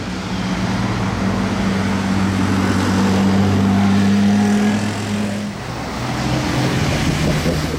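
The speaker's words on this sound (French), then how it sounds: "GT3 RS, je crois que c'est une 4 litres celle-ci." A Porsche GT3 RS with a 4-litre engine drives past in Monaco, a loud close engine note whose pitch rises and holds, then cuts off sharply before lower street noise resumes.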